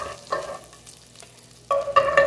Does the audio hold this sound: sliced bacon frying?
yes